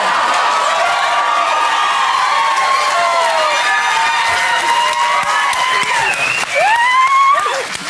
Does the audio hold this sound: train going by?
no